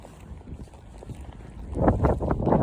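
Low, steady wind rumble buffets the microphone at a strawberry field in Japan, growing louder and gustier toward the end.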